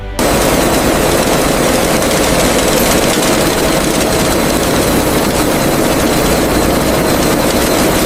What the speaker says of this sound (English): these sophisticated roller mills and dehulling machines transform the raw seeds into oil with surgical precision